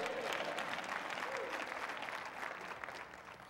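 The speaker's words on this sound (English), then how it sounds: "Would you clap your hands and praise the Lord?" A church congregation claps during a sermon, steady massed applause heard at a moderate distance, fairly faint and even, tapering slightly toward the end.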